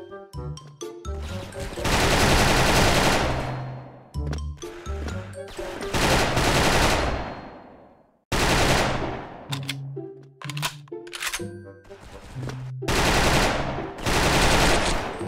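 FN FAL rifle fire in the Special Force video game comes as loud, close bursts of rapid shots separated by short pauses, each burst ringing out into a brief tail.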